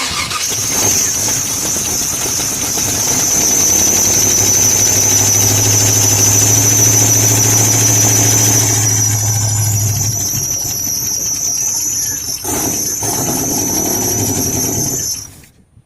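The engine of a 1994 Chevrolet K1500 pickup truck being restarted during a build runs loudly under a strong, high belt-like squeal that drops away near the end as the sound cuts off.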